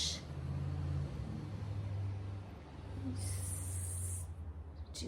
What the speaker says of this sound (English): stupid noisy UPS truck